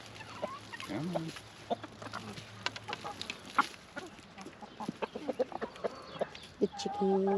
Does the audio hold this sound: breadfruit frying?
no